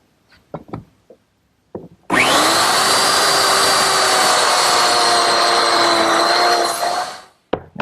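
Biscuit joiner set to its smallest cut slotting narrow pine rails: a few light handling knocks, then the motor whines up and runs steady and loud for about five seconds before spinning down, with no talk.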